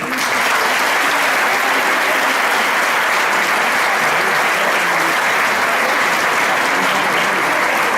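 Sustained audience applause fills a jota dance and song school show in Aragon during the Pilar festivities, a dense, steady clapping from a large crowd that holds at full loudness throughout.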